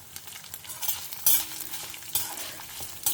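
Chillies and curry leaves stirred and frying in a pan, a steady close sizzle with scraping stir strokes and brief louder bursts, no voices.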